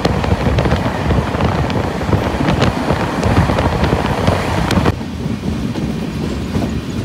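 A train rolls along the rails at a station late at night, with a loud, continuous rumble and rhythmic clickety-clack plus some wind buffeting. The sound drops in level partway through.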